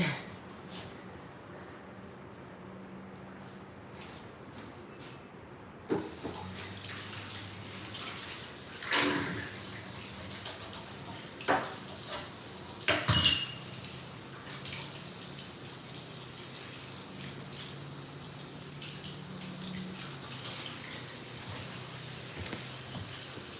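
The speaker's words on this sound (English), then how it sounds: "easiest way to wash it is let it fill up, shake it in the water a bunch, let it drain, and fill it up again." Water runs from a tap into a container in an old house kitchen, a steady close splashing rush with occasional sloshing surges and louder splashes as it fills.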